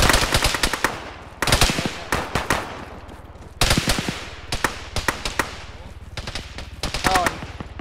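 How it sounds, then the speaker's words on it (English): Machine gun fire in a shooting video game comes in several loud rapid bursts of automatic shots with short gaps between them, close and dominant, with faint game chatter underneath. "now he's shooting the Ghost down"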